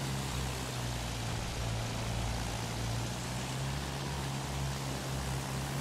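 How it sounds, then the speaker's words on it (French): An aircraft about to crash in the Battlefield 1 video game, heard as a steady broadband roar with a low propeller-like drone that stays constant throughout, fairly quiet and without talk. "il y a l'avion ici qui va se cracher"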